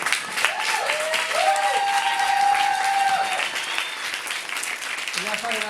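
Audience applause at the Sardinian Queer Short Film Festival award ceremony, a steady roar of clapping throughout, with a voice speaking over it.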